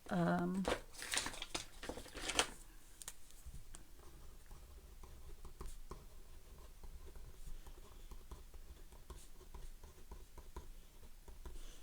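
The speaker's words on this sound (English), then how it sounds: "Let me write that down for you." A pen writing on a scrap of paper: steady scratchy strokes and taps, close and quiet, continuing for several seconds with some faint voice in the background.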